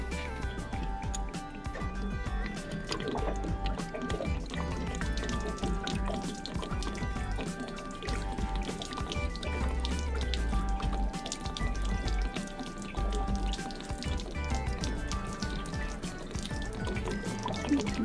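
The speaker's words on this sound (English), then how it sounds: "I'm also going to flip this breather or high pressure valve and allow the water to drain out very quickly" Water drains fast from the water heater tank of a Georgetown Class A motorhome through an opened pressure relief valve: a continuous close splashing and trickling that stays loud and even throughout, with no talking over it.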